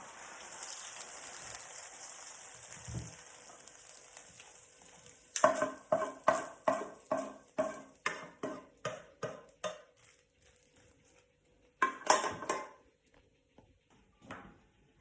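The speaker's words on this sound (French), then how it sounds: "maintenant, on peut transverser ça dans le plat" Carbonara pappardelle is scraped and stirred from a pan into a serving dish, a quick run of about a dozen rhythmic wet clinks and scrapes with a soft sizzle underneath, then a few scattered louder knocks.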